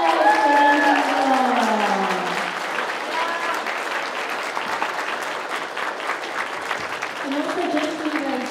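A convention audience at an anime event in Hawaii claps loudly and continuously, the applause slowly thinning, with some crowd noise and a voice near the end.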